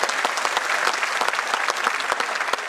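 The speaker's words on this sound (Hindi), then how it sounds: "बच्चों सभी की तालियां चाहिए, आपके लिए हो रहा है।" Sustained applause from a large audience at a mega job fair launch event, dense steady clapping with sharp individual claps standing out throughout.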